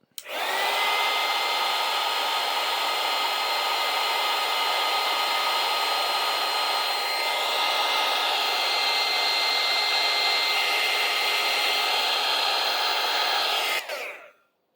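A heat gun blows hot air on lightsaber switch wiring, a loud, steady whooshing roar that runs continuously for about fourteen seconds, close up, then cuts off.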